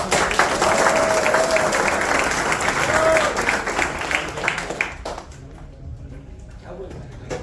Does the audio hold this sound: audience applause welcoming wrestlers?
yes